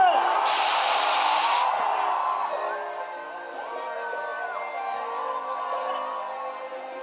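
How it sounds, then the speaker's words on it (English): A crowd at a film music launch for Sachin Joshi and Sunny Leone erupts in a loud, brief burst of cheering and whooping, then settles into steady crowd noise with music and voices underneath. "Huge round of applause for Sachin Joshi and Sunny Leon"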